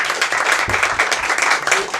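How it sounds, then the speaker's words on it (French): An audience at the debut of a Twitch show applauds, a dense, steady patter of many hands clapping at once for about two seconds, moderately loud with no break. "applaudissez-vous."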